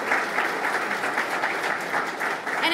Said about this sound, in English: Let's give them all a round of applause for their service